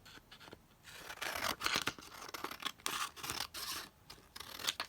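Scissors trim a cereal-box liner for a homemade envelope, a steady close crunching and rasping cut that runs through the whole stretch with no talking.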